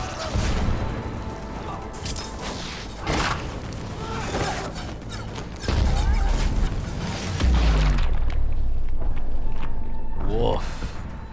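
Heavy booming cannon blasts and crashes in a Mass Effect 3 battle, several loud impacts over a dense rumble, with voices talking through it.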